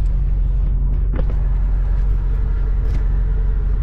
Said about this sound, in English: Here's this grader. This grader going by right now.